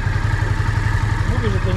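A Honda motorcycle engine idles steadily in a low, pulsing rumble, with some faint mechanical clatter on top, and a voice comes in briefly near the end.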